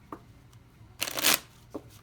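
A tarot card deck is shuffled in a few quick bursts, with a soft riffle near the start, a longer, louder flutter of cards in the middle and a brief rustle near the end, heard close up with no talking.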